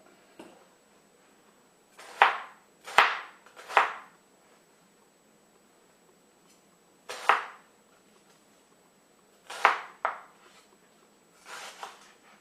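A knife chopping an onion on a board, with sparse crisp cuts spaced irregularly, some in quick pairs and triplets, separated by quiet gaps; close and fairly soft, with no talking.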